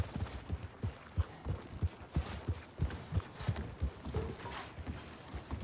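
Hooves clip-clop in a steady, even rhythm, close and distinct, over a low ambient hum with no voices, from a horse in the video game Red Dead Redemption 2.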